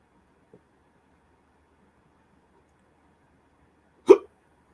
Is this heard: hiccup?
yes